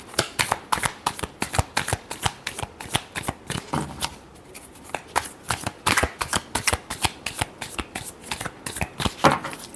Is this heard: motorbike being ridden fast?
no